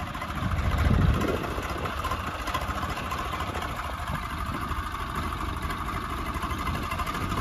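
A Swaraj 855 tractor's diesel engine runs steadily, a close, continuous low rumbling chug with a brief swell near the start, and no voices.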